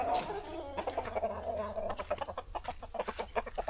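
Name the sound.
chickens clucking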